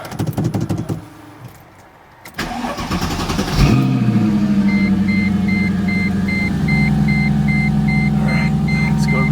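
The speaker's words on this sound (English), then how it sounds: "First start on the new fuel pump." A 6-speed Mercedes C55 AMG on a new fuel pump cranks and fires up partway through after some rough noise and a brief lull, then settles into a loud, steady idle while a repeating dashboard chime beeps.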